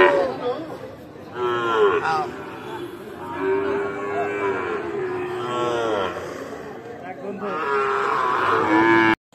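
Shahiwal bull calves and other cattle at a livestock market give repeated loud, drawn-out moos close by, with a faint murmur of crowd in the background.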